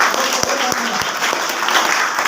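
Steady applause from a school event audience fills the clip, dense and continuous with a few sharper claps standing out near the start.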